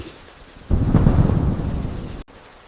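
A low rumble of thunder rolls in over rain during the monsoon season, swelling loud and close for about a second and a half before cutting off sharply, with no talking.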